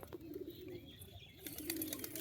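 A high-flyer pigeon coos softly nearby, a low, faint murmur repeating over quiet background noise.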